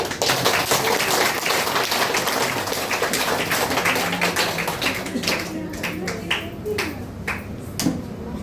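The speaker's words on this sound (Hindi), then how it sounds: "फिर से ठोकिए अपने लिए ताली" An audience at a DXN sharing meeting in Malangawa, Nepal, claps for itself in a long, dense burst of applause from many hands that fades slightly toward the end.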